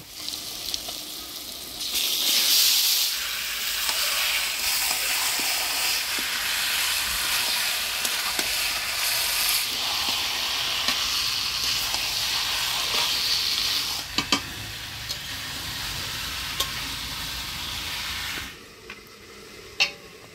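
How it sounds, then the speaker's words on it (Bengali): Marinated chicken fries with onion and tomato in a pan, giving a loud, steady sizzle with stirring scrapes and clatter that drops off near the end. "মাংসটা এদিকে কষতে থাকুক"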